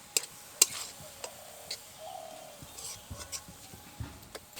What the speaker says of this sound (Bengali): এবার সবগুলোকে ভালো করে নেড়ে নেব।